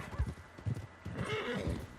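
Horse neighing with hoofbeats in the open-world western game Red Dead Redemption 2, several clip-clop thuds under a rising whinny, close and fairly loud.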